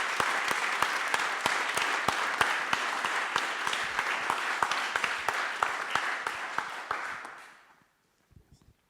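Audience applauding at a startup demo day in Paris, sustained crisp clapping from a large room that holds steady for several seconds, then thins and fades out, leaving a few scattered claps.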